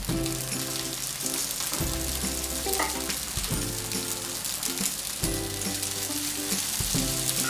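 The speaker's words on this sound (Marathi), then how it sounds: "लो मीडियम फ्लेमवर आपण हे सगळे पॅटीस शॅलो फ्राय करणार आहोत." Ragda patties shallow fry in oil over a low-to-medium flame, giving a steady, close sizzle and crackle throughout, with occasional soft knocks from the cooking.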